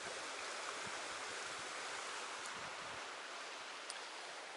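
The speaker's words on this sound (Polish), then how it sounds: "Zobaczcie, jak ładnie strumyk płynie." A fast-flowing mountain stream near Wisła in the Beskids, rushing steadily as a continuous broadband wash of water without pause.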